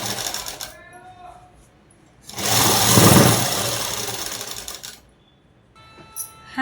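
Sewing machine stitching a dress, a short whirring burst in the middle of the clip between quieter stretches, with a voice talking before and after it.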